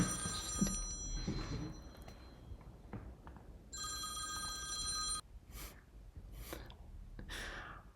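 A telephone ringing in two bursts of steady electronic ring tone, close and moderately loud, with breathing and rustling around it.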